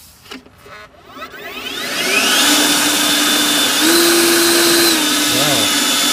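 Battery leaf blower spinning up from a few clicks into a loud, steady rushing whine, rising further as turbo boost kicks in, close by.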